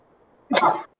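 A single short, sharp sneeze bursts out against quiet room tone.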